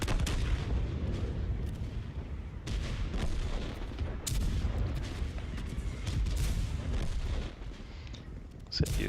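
Tank guns firing in World of Tanks, repeated booming shots and explosions amid dense rumbling battle noise, with someone talking over it.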